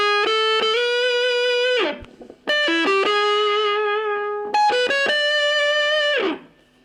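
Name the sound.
electric guitar with distortion playing a riff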